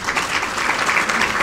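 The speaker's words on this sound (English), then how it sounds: "Can I also request a round of applause?" Sustained audience applause fills a university women's awards ceremony and memorial lecture hall, a dense, steady wash of many hands clapping at close range with no voices over it.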